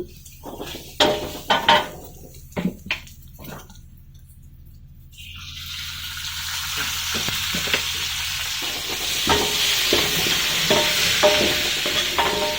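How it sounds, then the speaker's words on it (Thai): Vegetables for Japanese curry are stirred in a pan with a few clattering spatula strikes at first, then a steady loud sizzle of frying builds and continues with scattered scraping knocks as the stirring goes on. "แล้วจะผัดไปเรื่อยๆ"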